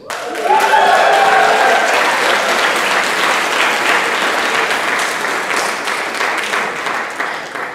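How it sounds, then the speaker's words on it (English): A banquet crowd gives a band award winner for most outstanding color guard member a loud, sustained round of applause that builds quickly, holds steady, and tapers slightly toward the end. "she will appreciate that round of applause"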